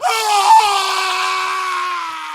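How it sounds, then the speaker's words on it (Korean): A man lets out a loud, sustained scream of fright, one continuous high-pitched cry that holds steady before tapering slightly. "그는 비명을 지르며 돌아봤다."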